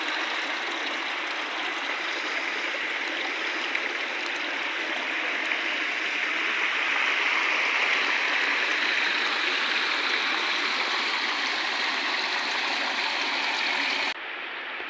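Seasonal waterfall and rapids roar steadily through a side gorge of the Fosso di Pance near Gallicano, a dense continuous rush of water with no voices.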